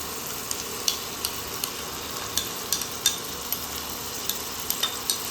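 Yogurt being stirred into a cauliflower and potato curry in a hot pan, with a steady sizzle and sharp spoon scrapes and clicks recurring every half second or so, close up and with no talking.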